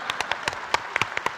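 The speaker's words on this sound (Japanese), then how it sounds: "盛大な拍手を、盛大な拍手をお送りください。" Scattered hand clapping from a small audience at a Japanese comedy sketch performance, a dozen or so separate claps at an uneven rhythm, fairly faint and sparse rather than a full ovation.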